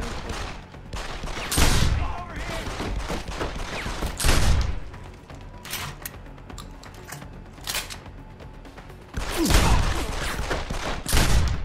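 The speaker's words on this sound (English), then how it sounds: "Gunshots!" Bursts of rapid gunfire, loud cracks in clusters with quieter scattered shots between them.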